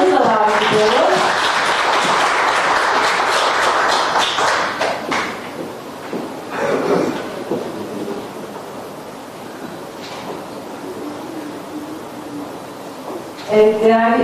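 Audience applause for a dietitian at a World Diabetes Day awareness event, a dense crowd clapping near and loud for most of the stretch, fading toward the end, with a brief burst at the close.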